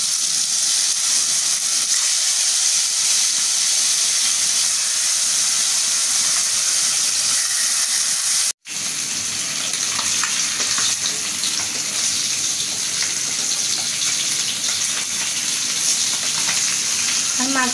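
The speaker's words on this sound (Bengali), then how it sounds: "সুন্দর করে লাল লাল করে ভেজে নিচ্ছি।" Fish coated in turmeric, salt and chili powder frying in hot oil, a loud, continuous close sizzle and crackle that runs throughout with one brief break.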